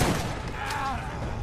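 Gunshots in the shooter game Borderlands on PC blend into a dense, booming volley that fills the moment, loud and continuous, with nobody speaking over it.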